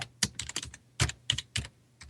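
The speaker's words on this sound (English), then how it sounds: "now I'm just typing that in here" Computer keyboard typing in quick bursts of close, crisp key clicks with short pauses between groups, no voices present.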